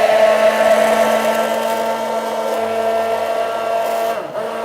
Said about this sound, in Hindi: अब इसको ब्लेंड करते टाइम हम सोडियम एलिजिनेट डालेंगे।